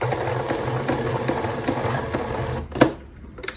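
Sewing machine stitching slowly toward a sharp corner, with a steady close whir and faint stitch pulses, then it stops with a couple of clicks, and no one speaks.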